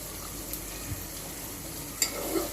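Onions sizzle in a pan, a soft, even frying hiss that runs throughout, with a brief sharp clink near the end and no talking.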